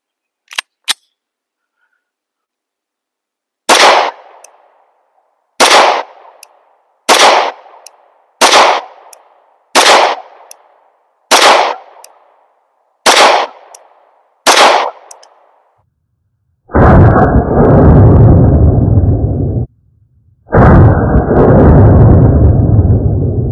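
Beretta Cougar 8000F pistol fired from a 10 round magazine: about nine loud, sharp shots at steady, evenly spaced intervals after a couple of faint clicks, then two stretches of harsh rushing noise.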